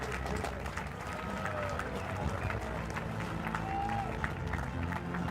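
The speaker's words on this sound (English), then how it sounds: "A big round of applause, ladies and gentlemen" A crowd at a rowing nationals award ceremony in Sri Lanka claps steadily and continuously, a dense even wash of applause throughout.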